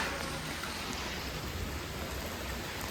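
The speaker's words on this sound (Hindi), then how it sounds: "देखो गाइस, इधर बारिश हो रही है, सुबह से हो रही है।" Monsoon rain pours down steadily outdoors, a soft, even hiss of water spattering and running into a drain, quiet and unbroken with no voices.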